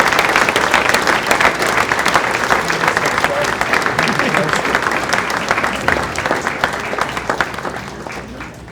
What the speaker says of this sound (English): Would you please give these individuals a round of applause?